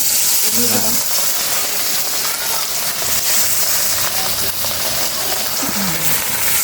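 Rui fish frying in hot oil in a wok for a traditional Bengali village-style curry, giving a steady, broad sizzling hiss that runs unbroken throughout at moderate loudness.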